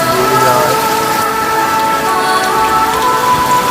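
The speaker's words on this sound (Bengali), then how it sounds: "ঝড়ো ঝড়ো বৃষ্টি, মাঝে বৃষ্টির ধারায় বৃষ্টি হচ্ছে।" Heavy rain pours during a storm at a flood, a loud, close and constant dense patter with no gaps.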